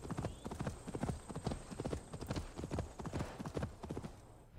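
Horse hooves clip-clop steadily in Assassin's Creed Valhalla, a close, regular rhythm of hoofbeats at a walking or trotting pace that carries on for several seconds, with no talk over it.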